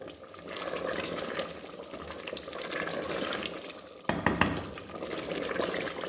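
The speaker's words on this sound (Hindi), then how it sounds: "इस तरीके से चम्मच हिलाने से ये जो हमारा मसाला था, ये प्याज और टमाटर वगैरह, इस तरीके से हिलाने से ये साथ में मैश हो जाएंगे।" Spoon stirring mutton korma masala with onion and tomato in a pan over full flame, a soft continuous wet scraping and sizzling, close and quiet, with one sharper clatter partway through.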